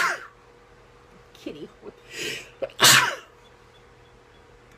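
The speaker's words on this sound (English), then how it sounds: "I'm going to sneeze, I think." A person indoors lets out one loud, sharp sneeze near the end, preceded by a few quick sniffs and breathy gasps as it builds, with a single spoken word before it.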